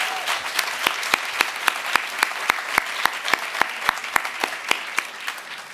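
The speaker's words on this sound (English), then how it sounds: "if we could give him a round of applause for that" Steady applause from an indoor crowd at a building rededication, dense clapping throughout with a few sharper claps standing out at regular intervals.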